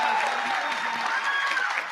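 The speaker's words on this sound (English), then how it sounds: "One last round of applause for all our winners." Applause rolls through a commencement ceremony crowd in a loud, continuous wash of clapping, with some voices mixed in.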